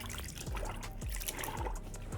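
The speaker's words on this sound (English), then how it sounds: "we're going to add about 1 ounce of our rinseless solution to make this a 256-to-1 dilution ratio" Rinseless car wash solution, about one ounce, poured into a three-gallon bucket of water in a home garage, making a soft trickling, splashing stream that runs steadily alongside a few low thumps.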